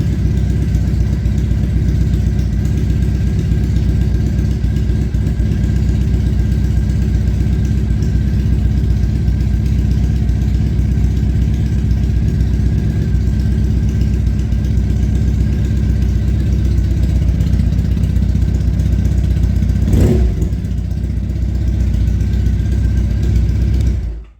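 Triumph Bonneville 865 EFI motorcycle engine idling after a fuel filter and fuel level sensor change, a loud steady low rumble close up, running evenly with a brief knock near the end before cutting off.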